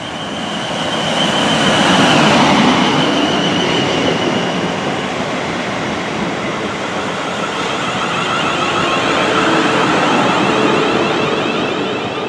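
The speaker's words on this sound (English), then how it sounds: "So right there is the Winchester train." A Winchester-bound train on the South Western Main Line rushes past close by, a steady loud roar of wheels and rail noise with a faint high squeal, sustained for several seconds with no talk.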